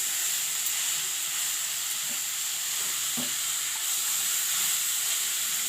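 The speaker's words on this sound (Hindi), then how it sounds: "देखो पूरा भल से फ्राई हो" Grated carrots frying in refined oil for carrot halwa, a steady close sizzle and hiss with occasional soft stirring scrapes, continuous throughout with no talk.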